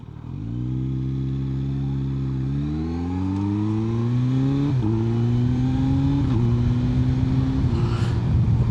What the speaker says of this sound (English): look at me accelerate from first gear. This is the smoothness of a 4-cylinder machine.